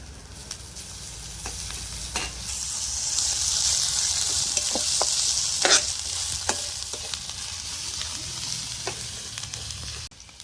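Chili and ginger-garlic paste sizzle steadily in a hot frying pan for a Maharashtrian brinjal bharit, a bright continuous hiss with occasional sharp spatters and stirring clicks, close and fairly loud.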